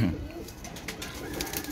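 Multan pigeons cooing in a loft among other fancy pigeons, soft low coos amid a busy, noisy background.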